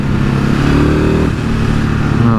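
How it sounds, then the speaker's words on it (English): A motorcycle engine, loud and close, holding a steady throbbing idle-like note that dips briefly midway and then settles back, with no voices over it. "I like the noise of this bike."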